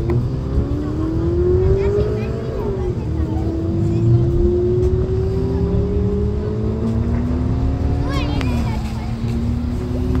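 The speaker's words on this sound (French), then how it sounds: "Tu vas effleurer tout doucement l'accélérateur pour la faire avancer ici à droite" A sports car's engine revs up and pulls steadily on a driving course at Folembray, the loud drone rising in pitch as it accelerates, easing off once, then climbing again, with people talking over the engine noise inside the car.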